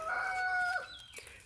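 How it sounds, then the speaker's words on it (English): A rooster crows once outdoors on a rural property where an old diesel truck sits, a brief, fairly faint call that rises and breaks off, over quiet background noise. "Sorry for the rooster"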